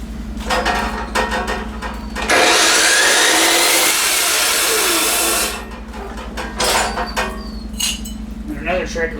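A saw pressed into use as a grinder on a stainless steel exhaust part for a Lifan KP Mini 150/200cc motorcycle gives a loud, steady harsh grind lasting about three seconds, framed by clattering shop handling before and after.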